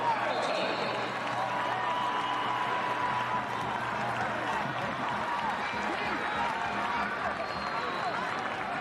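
A large stadium crowd at a USL soccer match, Birmingham Legion vs Pittsburgh Riverhounds, roars and cheers continuously in a big open space, a dense wash of noise with a commentator talking over it.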